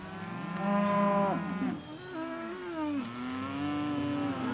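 Cows and calves on a farm moo loudly and close by, long drawn-out lowing calls overlapping one after another with no talk.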